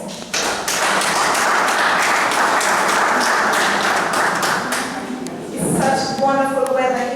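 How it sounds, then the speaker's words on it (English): An audience claps for the women present on International Women's Day, a loud, close, continuous round of applause that tapers off before a voice starts talking near the end. "let us just give all the women here a very warm applause"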